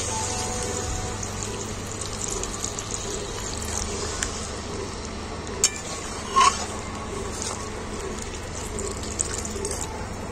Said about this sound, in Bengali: এখন আমি এর মধ্যে জল দিয়ে দেবো পরিমাণ মতো